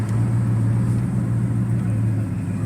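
Chevrolet Silverado pickup with an LY6 V8 and a shift-kitted automatic pulling at half throttle, a steady low engine drone that holds level and close throughout, with no voices.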